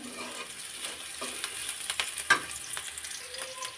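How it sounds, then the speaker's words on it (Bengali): Onion and garlic frying in a pan for a water lily stem bhaji, a soft steady sizzle with occasional stirring clicks and one sharper scrape, close and fairly quiet with no voices. "পেঁয়াজ আর রসুনটা একটু গোল্ডেন কালার করে ভাজি করে নিতে হবে"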